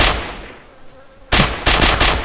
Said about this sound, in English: Shooting zombies.